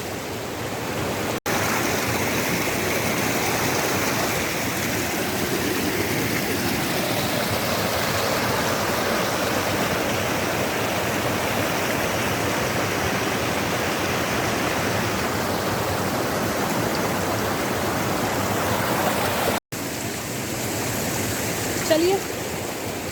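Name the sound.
spring water stream flowing in the lesser Himalayas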